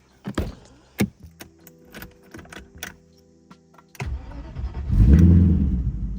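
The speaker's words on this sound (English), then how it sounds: "It's now a good time to turn the car on." A few sharp clicks and rattles like keys, then an Audi V8 D11 Quattro engine cranks and catches, settling into a steady idle close by.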